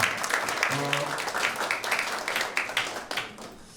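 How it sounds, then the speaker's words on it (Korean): A crowd at a political gathering in the National Assembly claps, a brisk, close patter of applause that carries on with voices murmuring underneath, thinning toward the end. "우리 박수 부탁드리겠습니다"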